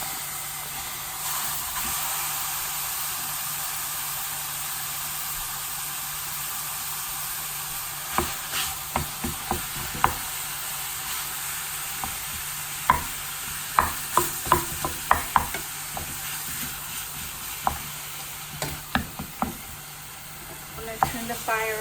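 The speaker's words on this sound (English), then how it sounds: "And then I'm gonna add the beef now." A whole pound of ground beef sizzling in a pan over medium-high heat, a steady soft hiss broken by repeated clacks and scrapes of a utensil stirring and chopping the meat.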